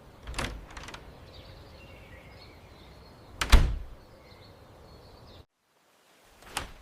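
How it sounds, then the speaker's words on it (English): A household door opens and shuts in two sharp thunks a few seconds apart, with a faint latch click near the end, all fairly close in a quiet room. "This is a door."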